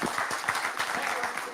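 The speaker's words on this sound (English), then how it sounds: "big round of applause for these guys." Audience applause at a Dallas business event, a steady wash of many hands clapping at moderate volume for a short stretch, with broadband crackle filling the whole clip.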